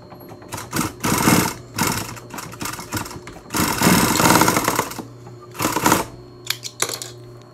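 A sewing machine stitches across the end of a fabric face mask in repeated bursts of fast, rattling whirring, with short pauses between runs, close and fairly loud.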